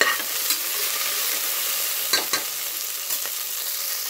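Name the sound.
okra pieces frying and being stirred in a pan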